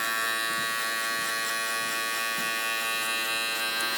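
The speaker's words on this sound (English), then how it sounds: "now you're ready for your trimmer" An electric hair trimmer buzzes continuously up close while a fade haircut is being done, with no talk.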